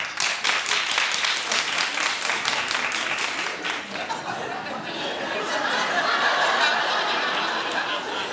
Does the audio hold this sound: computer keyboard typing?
no